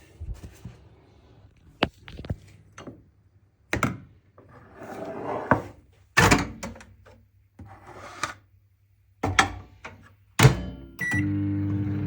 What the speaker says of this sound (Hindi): इसको गर्म करने के लिए माइक्रोवेव में लगाते पहले।